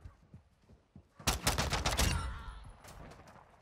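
Pistol fire in a modded John Wick mode shooter, a few soft taps followed by a loud rapid flurry of shots that fades into a ringing decay.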